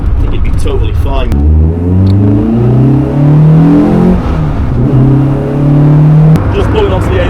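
Caterham Seven sports car accelerating hard onto the A19, its engine note climbing through gear changes in loud, rising sweeps heard from inside the open cockpit, with a voice talking over the engine.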